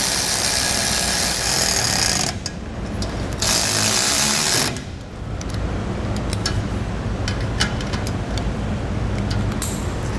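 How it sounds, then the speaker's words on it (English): A power driver buzzes steadily and loudly as it fastens self-tapping screws into a trailer connector bracket under a 2013 Chevrolet, with short pauses between bursts and light clicks. "also the self-tapping screws, and we'll fasten those right into the already existing holes that are in the bottom of that short bracket"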